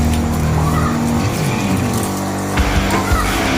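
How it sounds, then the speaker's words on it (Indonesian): A car engine strains up the steep Cicurug road in Kampung Sunda, its loud, close drone holding steady, then dropping and shifting midway, with a brief rougher burst near the end. "Kedengaran suara mesin teman-teman."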